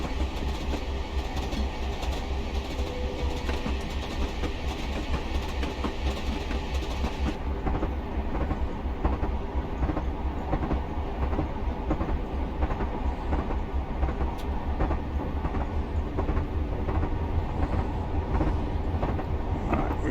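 A Class 66 diesel locomotive on the Norwich to Lowestoft line in Train Simulator Classic slowly gains speed, with a steady engine drone under continuous rail rumble and rhythmic wheel clatter, loud and unbroken throughout.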